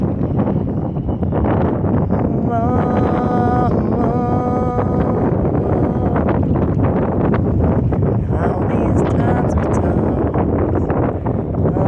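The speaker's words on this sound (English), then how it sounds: "As this wind kicks, Meg, you hear it, honey." Strong wind gusting outdoors, a loud constant roar and buffeting against the microphone, with a faint voice beneath it.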